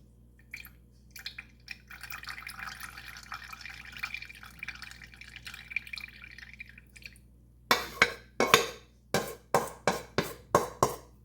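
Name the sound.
buttermilk pouring into a clean jug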